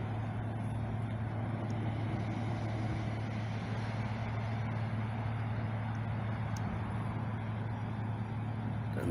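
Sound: car or pickup truck speeding past

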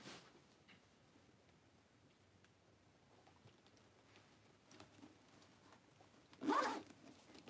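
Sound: zipper of a designer tote bag's inner compartment

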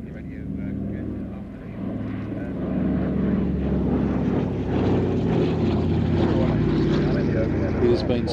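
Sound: Douglas DC-3 / C-47 aircraft flypast

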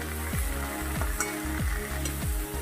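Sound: okra sizzling while being sautéed in a pan

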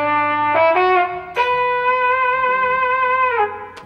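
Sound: trumpet sound played on guitar synthesizer

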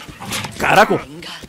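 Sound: dog barking in Fallout 4 video game

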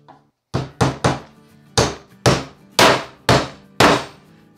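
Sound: hammering nails with a hammer to test it

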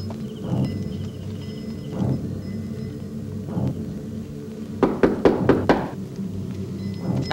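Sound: knocking on a door

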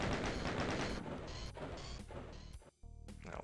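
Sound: enemy gunfire in the video game Doom 2

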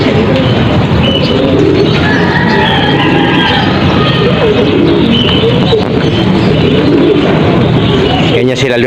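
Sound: flock of flying pigeons (tora-tora) cooing

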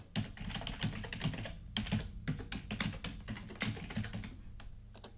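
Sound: typing on a computer keyboard

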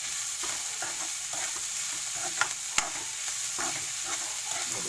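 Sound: frying chopsuey vegetables with sauce over high flame

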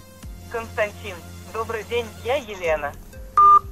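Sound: phone call tones while testing a Xiaomi Redmi 4X connection

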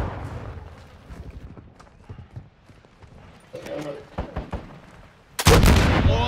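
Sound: gunfire shooting down a UAV in Call of Duty: Modern Warfare II video game

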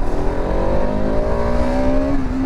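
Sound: Bajaj Pulsar RS200 BS7 motorcycle riding

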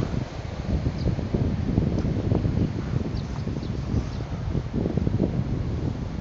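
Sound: wind blowing outdoors

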